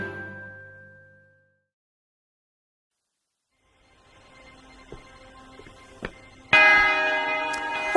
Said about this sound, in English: That's a lovely bell.